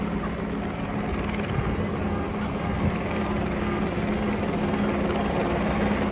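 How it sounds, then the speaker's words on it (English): Steady, droning rotor noise from about four helicopters overhead at Venice Beach fills the air continuously, a broad constant rumble without pause. "There's like 4 helicopters up here."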